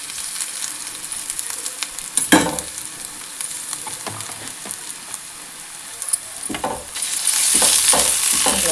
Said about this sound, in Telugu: పచ్చి వాసన పోయేలా వరకు వేయించుకోవాలి